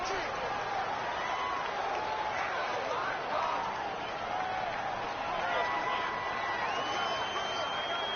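Home stadium crowd in a football video game roars steadily as a broad, constant wash of noise, with a commentator talking over it throughout.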